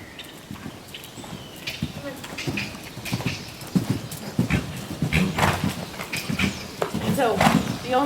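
Rhythmic hoofbeats of a horse cantering on soft ground, growing louder, with people talking over them.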